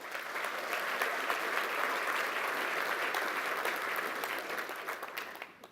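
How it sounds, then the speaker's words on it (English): An audience at the 2017 BMC Exchange conference in London gives a sustained round of applause, even and full for several seconds before fading away near the end. "I think that deserves a round of applause."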